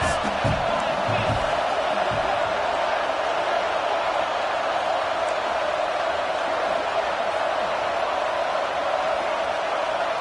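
A stadium crowd roars steadily in support of the defense on a big third down at a Tennessee versus Michigan football game, a loud, dense, continuous wall of cheering with scattered whoops.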